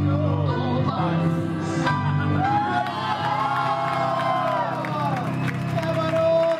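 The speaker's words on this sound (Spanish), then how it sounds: "¡Qué bárbara la ovación!" An auditorium audience at the Metropolitan breaks into an ovation: a sustained crowd roar of cheering, whoops and shouts, steady and loud throughout, with a voice rising above the noise.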